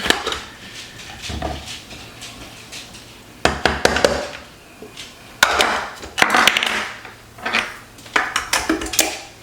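A food processor blade being fitted, close and sharp clatters and knocks of hard plastic and metal parts coming together in irregular bursts, with quieter handling sounds in between.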